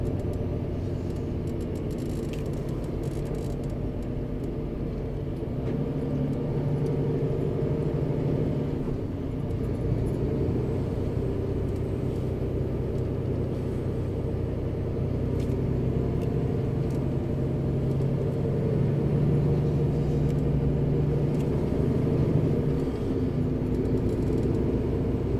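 Heavy truck traffic on Germany's A8 motorway near a bridge under construction forms a continuous low rumble of engines and tyres, steady and moderately loud for the whole stretch, with no talk over it.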